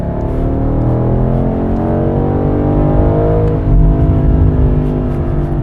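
A 2023 BMW M850i Gran Coupe in automatic drive mode holds a loud, steady engine drone that climbs through the revs. It plays alone for the whole stretch, with a brief swell near the end and no talking.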